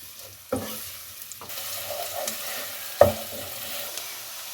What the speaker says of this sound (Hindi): प्याज को हल्का सा फ्राई कर लें